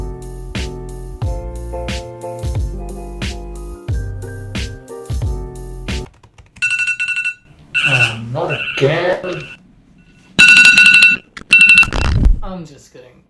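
A phone timer alarm rings in a rhythmic pattern of repeated electronic tones for several seconds. It stops and is followed by a person speaking and brief louder electronic bursts.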